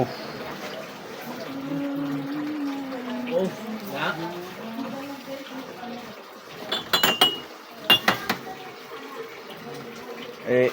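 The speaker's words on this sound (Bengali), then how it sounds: "ঢেলে দিলাম" Special coffee poured into a cup at a tea and food corner stall, with liquid sounds and clinking cups, under close conversation and background street noise.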